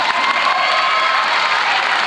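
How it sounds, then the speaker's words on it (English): A high school graduation crowd claps and cheers at a commencement ceremony, dense applause mixed with scattered whoops and shouts, steady and fairly loud for a couple of seconds. "You can clap for that if you want."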